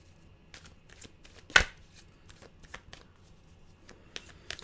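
Tarot cards shuffled by hand at close range, a rapid patter of soft flicks and taps with one sharper snap partway through, quiet and free of speech.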